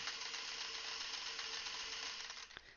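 A sewing machine chain-piecing fabric pieces back to back runs in a steady, continuous mechanical whir with fine rhythmic clatter, close and alone, easing off near the end.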